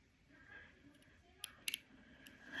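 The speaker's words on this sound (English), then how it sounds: "I'm going to actually cut just a tiny bit more here." Scissors cutting linen fabric, a few quiet crisp snips close by against a soft, faint background.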